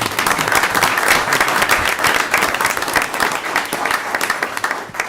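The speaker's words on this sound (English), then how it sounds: "Let's give everybody a hand on that" Loud, sustained applause from a crowd at a county board of commissioners meeting, dense steady clapping filling the whole stretch without a break.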